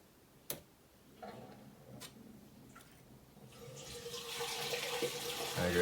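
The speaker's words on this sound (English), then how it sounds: "There goes the water again." A few sharp clicks, then water from a tap begins running and steadily grows louder and fuller in a quiet indoor room.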